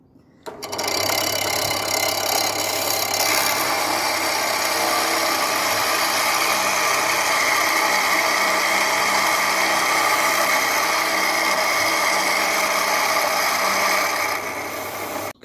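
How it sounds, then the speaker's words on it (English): A full-size drill bores into a part during a Lexmoto ZSB 125 motorcycle restoration, producing a loud continuous whirring drone that starts abruptly and runs steadily for most of the passage before tapering off. "now the full size drill"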